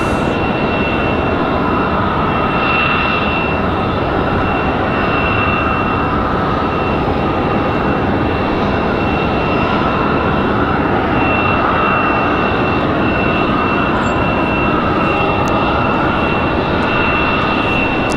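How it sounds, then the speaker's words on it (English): A Boeing 717 jet airliner arriving from Detroit on final approach at Raleigh-Durham International Airport sends out a loud, continuous engine roar with a steady whine, holding at the same level throughout with no voices. "Looks like we got a Boeing 717 on final from Detroit."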